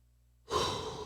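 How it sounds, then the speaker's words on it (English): One slow, deep inhale taken close to the microphone during a breathing practice, rising suddenly from silence and holding steady to the end. "Deep breath."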